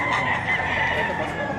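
Chickens and roosters at a livestock auction market in Padre Garcia, Batangas, with dense overlapping fowl calls and crowing filling a busy, noisy backdrop.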